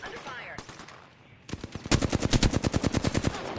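Rapid automatic gunfire in a battle royale video game firing, loud and near, starting with a short burst and then a sustained fast rhythmic volley after a quieter stretch with faint background noise.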